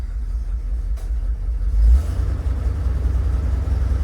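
A 1966 Ford Thunderbird engine with a bad carburetor runs roughly, its low, steady rumble droning close by and swelling briefly before settling back, with no voices over it.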